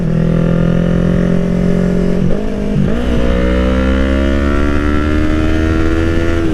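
A motorcycle fitted with an ECU flash revs hard and accelerates, its engine note climbing steadily in pitch after a brief dip around a gear change, loud and close throughout.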